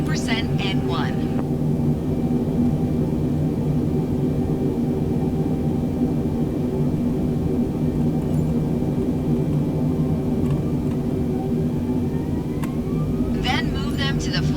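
Airbus A320neo engines spooling up in Microsoft Flight Simulator 2020 during takeoff: a steady, loud engine rumble and whine holding throughout, with faint clicks near the start and end.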